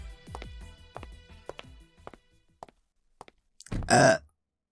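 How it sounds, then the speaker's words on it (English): A woman burps into a microphone, a string of low croaking belches in the first couple of seconds, then after a pause one louder, longer burp, close and unaccompanied. "It's not very ladylike to be burping on a mic."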